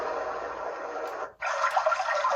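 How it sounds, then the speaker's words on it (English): A portable white noise machine plays an ocean-waves sound as a steady, soft, even hiss that cuts out briefly and then resumes. "That looks like the ocean waves"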